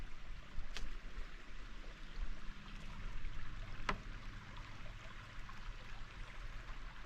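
Steady running water of a mountain creek near a lakeside cabin, a continuous broadband rush with no voices and two faint brief ticks.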